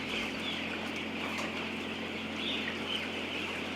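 Chickens at a poultry farm clucking softly at a distance, faint short calls over a steady background hum, with no one speaking.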